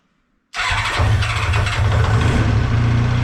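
A Kawasaki motorcycle engine, its carburetors just cleaned and choke fully on, cranks and catches, then settles into a loud, steady idle with a continuous low rumble close by.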